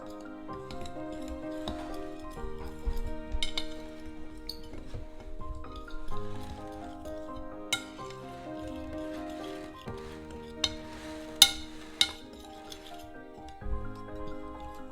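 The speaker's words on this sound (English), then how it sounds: "With a fork, I'm going to stir that all in." A fork stirs zucchini chocolate cake batter in a bowl, giving scattered light clinks and scrapes, with a few sharper taps near the end, all under steady background music.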